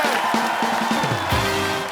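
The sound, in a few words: studio audience applause and cheering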